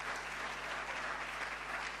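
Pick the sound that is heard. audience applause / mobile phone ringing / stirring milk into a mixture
audience applause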